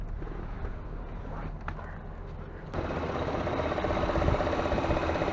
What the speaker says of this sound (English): So I got the engine running, so I got to be careful here.